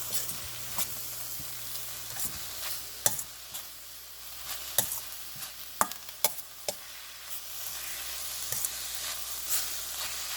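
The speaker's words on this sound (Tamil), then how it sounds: "எடுத்து வச்சுக்கிற தேங்காய் பூ போடுறேன் அதையும் நல்லா கிளறி விடுவோம்" Grated coconut frying and being stirred in a pan, a soft continuous sizzle broken by repeated scraping taps of the spoon at an uneven rhythm.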